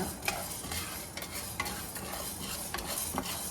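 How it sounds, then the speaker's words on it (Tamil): Urad dal is dry-roasted in a pan in a village kitchen, the lentils scraped and stirred with a rhythmic rasping rattle over a steady soft sizzle, close and without talk. "அடுத்து உளுந்த வறுக்கிறோம். உளுந்து வறுக்கணுங்க."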